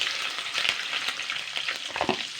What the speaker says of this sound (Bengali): এবারে নুন মাখানো মাছগুলো দিয়ে দেবো